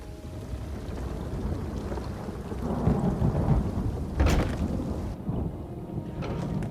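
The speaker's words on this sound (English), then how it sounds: "Now there's a new storm brewing" A thunderstorm in The Elder Scrolls Online: steady rain hisses throughout while a sharp, loud thunder crack bursts midway and rumbles off, with no voices.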